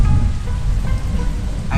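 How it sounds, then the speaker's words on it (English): Heavy rain pours steadily onto a street along Mohammed Ali Road in Mumbai, a dense, continuous hiss close by with no clear voices over it. "it's raining cats and dogs"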